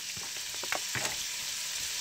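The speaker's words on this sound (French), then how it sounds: "Une fois l'huile est chaude, il faut rajouter le lardon." Lardons crackle and sizzle in hot oil in a pan for a potato stew, a soft continuous fry with a few sharp spattering pops early on.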